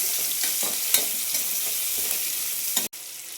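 Mint pulao ingredients stirred and frying in a pan over a low flame, a steady sizzle with repeated scraping strokes of the spoon, close and alone.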